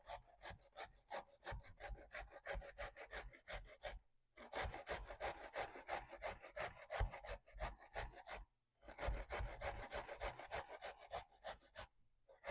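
Zucchini is rubbed against a hand grater in quick, rhythmic rasping strokes, close and clear, in three runs separated by short pauses.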